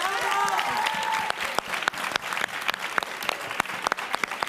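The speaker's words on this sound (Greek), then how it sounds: "Χειροκρότημα" Studio audience of a Greek TV game show bursts into loud, sustained applause with whoops at the start, a dense crowd clapping close and bright throughout.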